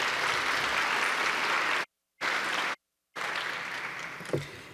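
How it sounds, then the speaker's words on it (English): A conference audience applauds a guest speaker being introduced at a policy event, steady broadband clapping that cuts out in two brief gaps before resuming and tapering. "So please join me in giving Jessica Fulton a round of applause"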